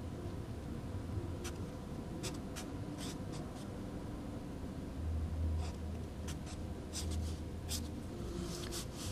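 Close, steady scratching strokes of handwriting as a calculus antiderivative is written out, with no talking over it.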